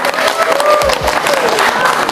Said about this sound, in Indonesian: Minta tepuk tangan sekali lagi dong.